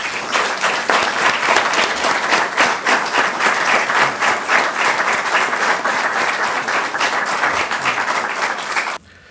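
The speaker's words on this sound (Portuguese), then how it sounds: "peço uma enorme salva de palmas." A big round of applause at a 25 de Abril commemoration ceremony, loud and continuous crowd clapping with a few sharper individual claps, cutting off abruptly near the end.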